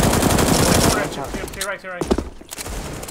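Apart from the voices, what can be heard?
Desert Eagle gunshots in Counter-Strike video game on de_inferno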